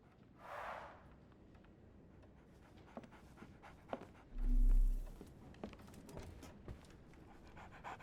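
A dog pants in Sherlock Holmes The Awakened, quick and rhythmic at close range, with a couple of louder huffs and a whimpering breath standing out.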